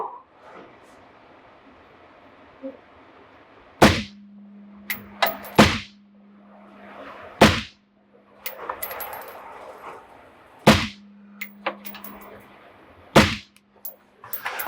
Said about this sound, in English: 5 quick shots